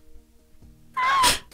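A cat lets out a short, loud meow after a quiet moment with faint low sounds, the cry rising and falling briefly before fading.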